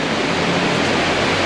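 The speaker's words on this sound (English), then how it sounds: "It is pouring down here in Bangkok" Heavy rain pouring down in Bangkok during a storm, a dense, even hiss of rainfall that holds steady and fairly loud throughout, with no voices.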